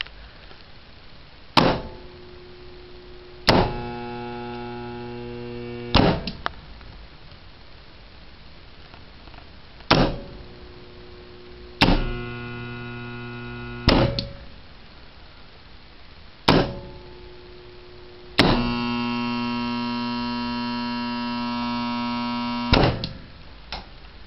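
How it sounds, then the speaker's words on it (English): A star delta motor starter's contactors clack in and out repeatedly, each sharp clunk followed by a loud, buzzing electrical hum from a noisy coil that holds for a second or several before the next clack cuts it. "This one has a noisy coil."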